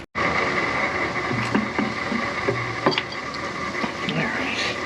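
A gear wrench ratchets while unbolting a Hayward pool pump: rapid close clicking runs steadily under a hum, broken by a few sharper knocks and clacks.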